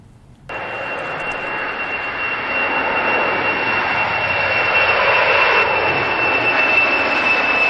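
Jet engine of an ANA airliner, kicking in abruptly after a quiet start and then holding as a loud, steady roar with a high whine that swells slightly over several seconds, with no voices.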